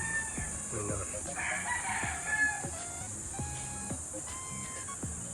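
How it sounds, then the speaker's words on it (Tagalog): Roosters crow several times in a row, one after another at moderate distance, with a steady high insect-like hum in the background, at a gamefowl farm in the Philippines. "Ayan lang yung manok nakatambang sa labas."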